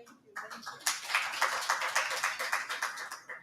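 A small audience at a World AIDS Day event gives a brief round of hand clapping, a quick burst of close, crisp claps that stays fairly thin and even for a few seconds.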